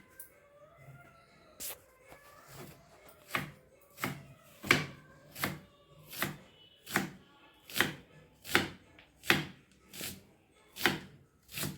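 A knife slices onion on a board for a bun burger in a steady series of crisp chops that speed up and grow firmer. The cutting is close, with no speech.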